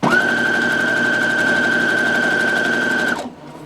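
A sewing machine back stitching a zipper bag, running in one steady, loud, even burst for about three seconds before stopping abruptly.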